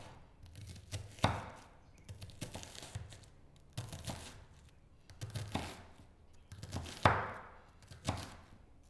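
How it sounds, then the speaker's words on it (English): Knife chopping an onion into small cubes on a board, with a crisp thunk about every second, irregular and close, with no talk. "Then cut across the other way to create little cubes of onion."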